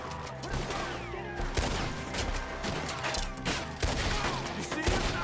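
Gunfire in Red Dead Redemption 2: a volley of sharp shots spaced irregularly, some near and loud, others farther off, over a busy background with faint voices.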